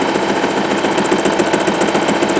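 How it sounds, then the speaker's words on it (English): A Singer Promise sewing machine running continuously while stitching a zigzag seam, giving a steady, close mechanical whirr with a fast rhythmic needle beat. "Once that's in position, we're ready to start sewing."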